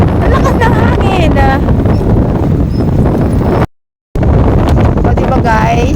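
Strong seaside wind buffeting the microphone at Nanliao, Taiwan, a loud constant roar and rumble throughout, with faint voices underneath and a brief dropout in the middle.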